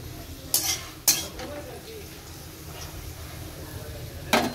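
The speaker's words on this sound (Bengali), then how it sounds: "তো এখন আলুটা ভাজা হচ্ছে" Round potato slices fry in a pan with a soft, low sizzle, punctuated by a few sharp metallic clinks and scrapes of a utensil against the pan.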